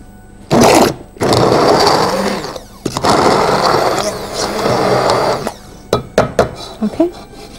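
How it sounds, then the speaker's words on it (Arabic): Hand blender whirring through ingredients for a basbousa with baklava dessert, loud and close in several bursts of steady motor buzz separated by short pauses, ending in a few brief on-off pulses. "الهاند بلندر وابتدي اخلطهم مع بعض"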